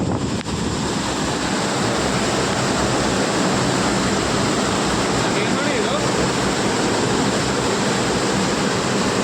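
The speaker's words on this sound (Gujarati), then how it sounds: "જોયું અહીંયા પાણી ચાલે. એક નંબર હાલે પાણી." Water flows at Uparkot Fort, an old hilltop fort in Junagadh, as a loud, unbroken rushing roar that fills the whole stretch without pause.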